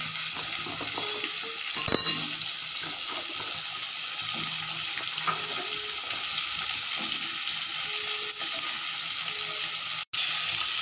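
Cauliflower, radish and potato fry in hot oil for a fish curry, giving a steady close sizzle with scraping stirs and a sharp clack near the start.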